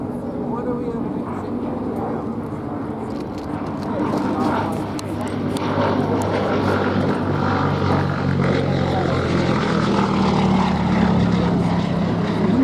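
A Gloster Gladiator biplane flies at the Duxford air show, its propeller engine droning steadily and growing slightly louder across the stretch, while a commentator talks over it throughout.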